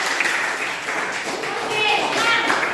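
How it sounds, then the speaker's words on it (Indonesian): A classroom gives a short round of applause for a student, with steady clapping from many hands mixed with children's voices and chatter throughout. "Kita kasih aplaus buat si bagus."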